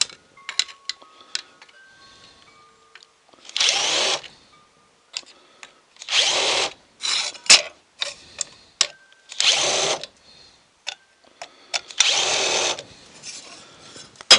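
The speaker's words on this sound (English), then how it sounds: "we're actually going to use the bigger drill to take the burrs off" A power drill whirs in short repeated bursts, grinding burrs off a metal lock plate, with quiet clicks and handling noises between each run.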